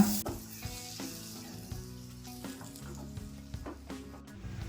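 Boiled chickpeas are stirred in a sizzling pan for palak chana curry, a soft hiss of frying under repeated scraping and clinking strokes of the spoon against the pan, close and unaccompanied by speech.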